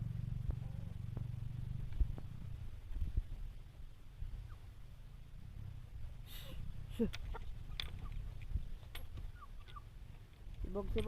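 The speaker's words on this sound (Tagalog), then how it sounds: "Nang watuwat ng manok sa gawas" Chickens cluck and call intermittently outdoors over a steady low rumble of background noise, with occasional sharper squawks toward the end.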